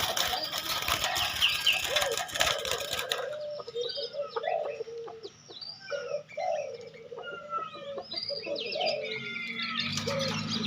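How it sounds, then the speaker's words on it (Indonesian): Javan myna calls ring out repeatedly at a bird shop in Makassar, Indonesia, varied chirps and whistles following a burst of noisy chatter at the start, fairly close and clear. "Jalak kerbau."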